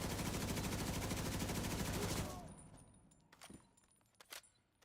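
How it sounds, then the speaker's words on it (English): Rapid automatic gunfire in Division 2 rattles loud and dense for about two seconds, then cuts off, leaving scattered fainter shots and clicks. "Somebody stop shooting me."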